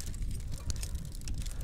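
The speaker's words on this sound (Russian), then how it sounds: "Да, ветер." Wind gusts across a frozen lake during spring ice fishing, a steady rough buffeting with brief louder bursts, close to the microphone and without speech.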